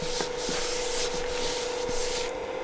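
A cloth rubs back and forth across the surface of a new xTool F2 laser engraver as it is wiped dry, a steady close scrubbing with a few soft knocks and a faint tone underneath.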